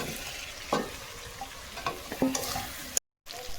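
Potatoes dropped into cooked-down masala and oil for a catfish curry hiss and sizzle steadily, with a few scrapes and clicks of stirring, close and fairly quiet; the sound cuts out briefly near the end.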